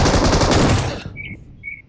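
Automatic gunfire from a machine gun in the battle royale game BGMI on the Erangel map, a loud dense rapid burst for about a second, then a short pause with faint clicks and small sounds.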